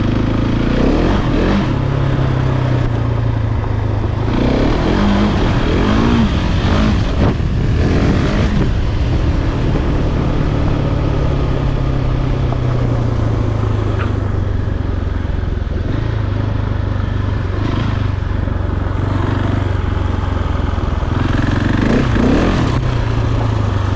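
A Husqvarna 701 motorcycle engine revs hard with a slipping clutch, a loud, continuous rising and falling drone close to the microphone, with wind buffeting throughout and no speech.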